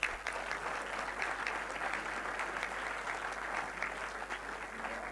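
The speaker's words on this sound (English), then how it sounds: "round of applause for Bhullar sir first." Sustained audience applause at a Thapar Institute of Engineering & Technology celebration, dense even clapping from a large crowd lasting throughout with no talk over it.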